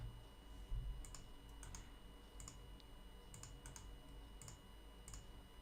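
Quiet, steady keystrokes on a computer keyboard while a password is entered, irregular clusters of soft clicks over a faint background hum with no talking.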